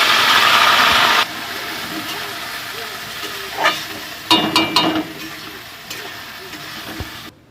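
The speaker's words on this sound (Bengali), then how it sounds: "তো এখানে চাল আর ডালটা ভেজে নেবে একসঙ্গে।" Gobindobhog rice and lentils frying together in a pan for khichuri, a steady broad sizzle loud at first then settling lower, with a few short scraping stirs near the end.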